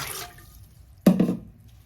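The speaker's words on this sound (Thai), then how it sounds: "ตังมมใส่น้ำเปล่าลงไปค่ะ" Plain water splashes into a cooking pot while making a simple syrup for a Thai sweet: a short, close pouring gush that starts abruptly, lasts about half a second and fades, with quiet room noise before and after.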